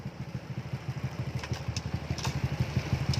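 A motorcycle engine with a freshly tuned carburetor runs close and loud, its rapid, even pulsing firing building slightly in intensity.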